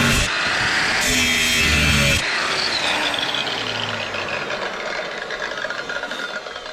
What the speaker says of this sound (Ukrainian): Розміщаємо всі заготовки, починаємо їх відрізати для подальшого зварювання.